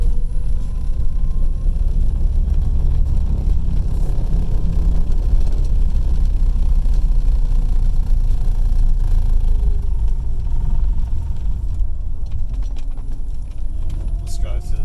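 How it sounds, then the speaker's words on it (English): A car rolling through deep snow, with a steady low engine rumble and road noise filling the whole stretch, close and constant, while a person talks over it. "Let's drive through the deep snow."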